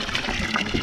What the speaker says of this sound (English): this is like just piped out of the natural spring on the hill